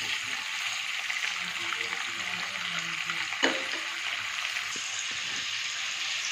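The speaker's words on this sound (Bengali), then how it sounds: "এবার এটাকে সুন্দর করে ভেজে নেব।" Fish frying in hot oil in a pan for a Bengali fish curry with cauliflower and potato: a steady, close hiss and crackle throughout, with one brief clatter partway through.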